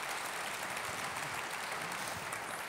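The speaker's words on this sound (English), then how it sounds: "could you please give them a huge round of applause of welcome?" A conference audience applauds to welcome panelists, a dense, steady wash of clapping from many hands that holds evenly at full strength without pause.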